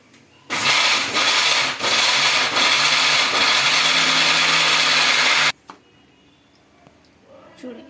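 A mixer grinder roars for about five seconds, coarsely grinding fried coconut pieces, loud and steady with a brief dip in pitch partway, then cuts off abruptly to a quiet room with small kitchen clatter.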